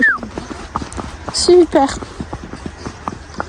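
Pony hooves clip-clop in a steady walking rhythm on an outdoor ride among vineyards, with a whinny and people talking over the close, clear hoofbeats.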